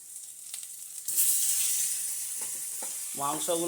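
Chicken giblets and liver hit a hot pan and burst into a loud, hissing sizzle that keeps up steadily, with stirring clatter and a voice speaking briefly near the end.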